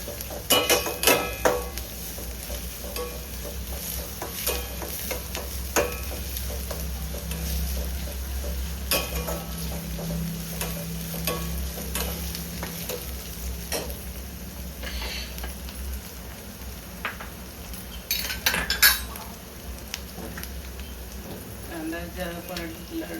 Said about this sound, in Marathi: चांगलं लाल होईपर्यंत व्यवस्थित कांदा भाजून घ्यायचा आहे तेलामध्ये